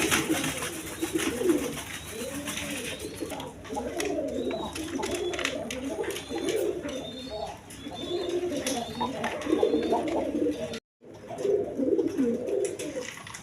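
High-flying Giribaz pigeons coo repeatedly at close range, soft rolling calls overlapping throughout with background speech from a seller, faint chirps and one brief dropout.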